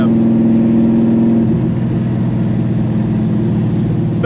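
A 1969 Road Runner with a 660 hp Mopar engine pulls hard, its steady mid-pitched drone holding loud and close throughout with a slight shift partway through, no voices over it.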